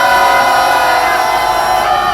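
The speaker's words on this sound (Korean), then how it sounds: "동의하시면 3초간 함성 시작!" A crowd at a political protest rally against prosecutorial oppression shouts together in one sustained, very loud roar that holds steady for about two seconds.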